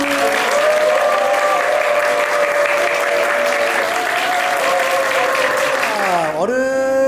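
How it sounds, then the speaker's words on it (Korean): Wedding guests clap together in sustained applause for several seconds at a chapel ceremony, with some voices mixed in before it tapers off. "박수!"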